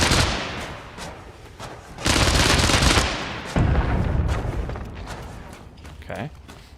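Dense bursts of gunfire from bullets in the pixel-art shooter Untitled Pixel Simulator, with loud sustained volleys around the middle and scattered shots before and after, under faint background talk.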